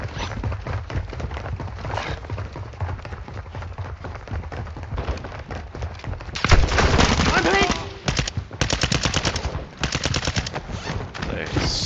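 Gunfire in Call of Duty Modern Warfare 2 DMZ mode, rapid automatic rifle bursts crackling nearly nonstop, growing louder with dense volleys in the second half, with a voice now and then.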